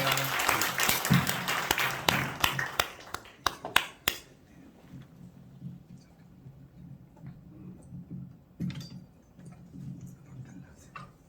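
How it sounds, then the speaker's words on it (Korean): A church concert audience claps to welcome a worship singer, a burst of applause that thins into scattered individual claps within four seconds, followed by quiet room noise with a few isolated claps. "우리 박수로 영광 올려드리겠습니다"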